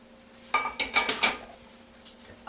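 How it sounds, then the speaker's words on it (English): A spoon clinks and scrapes against a pot in a short run of close, bright metallic taps as green onions and butter are folded into roasted corn grits, then it goes quiet. "we're going to take the green onions and butter, and we're going to fold that right in"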